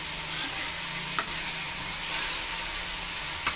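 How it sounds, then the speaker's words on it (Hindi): Dal mash masala frying in ghee, a continuous close sizzle with faint stirring scrapes and a couple of sharp spoon clicks against the pot. "जितनी देर तक ये घी नहीं छोड़ देती उतनी देर तक हमने इसको भूनना है अच्छी तरह।"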